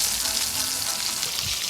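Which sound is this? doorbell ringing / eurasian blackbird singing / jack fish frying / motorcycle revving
jack fish frying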